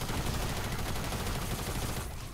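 Rapid, dense gunfire from a double-barrel shotgun and an SMG in the Fortnite video game, loud and continuous with overlapping shots, easing slightly near the end.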